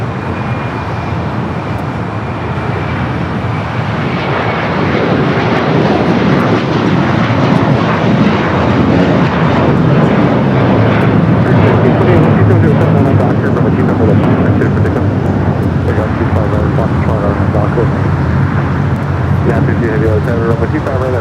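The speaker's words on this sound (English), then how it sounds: "Got a Delta's A350-900 rolling down the 24 left there on the north side." A Delta Airbus A350-900 rolls down runway 24 left at LAX on its takeoff run, a loud continuous jet engine roar swelling and holding throughout, with a voice talking over it.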